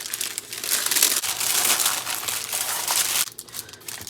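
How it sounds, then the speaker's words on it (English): Aluminium foil crumpled and pressed over a pie crust in a pie pan, a dense, continuous crinkling that runs loud and close for about three seconds before easing off. "I'm just going to make sure this stays on here as we put the foil on."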